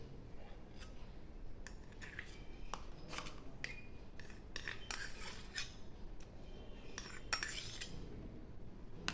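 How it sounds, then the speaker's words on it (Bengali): Strained sour yogurt whisked by hand in a bowl for sweet mishti dahi, giving a steady run of soft scraping clinks and taps of the whisk against the bowl, quiet and close with no talk. "এখন আমি এগুলিও ফেটিয়ে নেব।"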